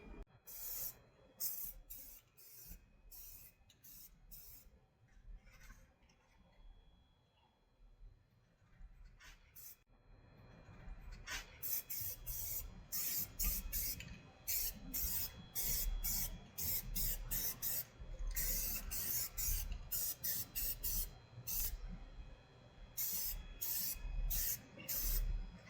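Spray can painting a 1986 Chevy van white in short repeated hissing bursts, close and moderately loud, with quieter rubbing and handling sounds between sprays.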